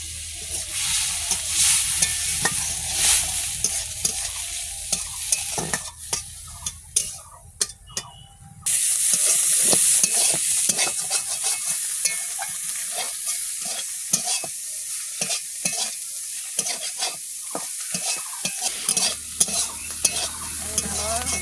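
Shrimp sizzling steadily in a frying pan while a utensil stirs and scrapes through them with frequent clicks and knocks, loud and close, a short pause in the middle before the hiss returns stronger.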